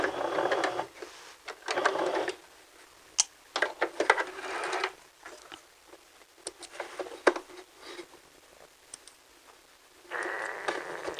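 A sewing machine back stitching the top edge of a pocket fold, bursts of close mechanical stitching whirr separated by short pauses, fairly quiet, no talking.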